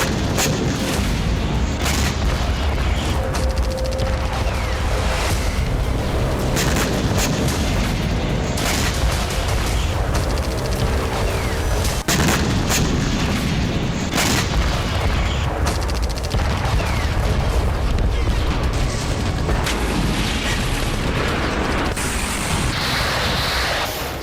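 Explosions from a night missile and kamikaze drone attack on the port of Sevastopol: loud, continuous rumbling booms and bursts of fire that keep going without pause, with no clear gaps between the blasts.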